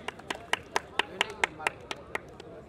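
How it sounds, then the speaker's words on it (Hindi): Sparse clapping from a crowd at a village kabaddi match in Mitathal, about a dozen fairly evenly spaced claps over quiet background noise, faint and somewhat distant. "भाई तालियां बजाकर हौसला अफजाई करते रहे।"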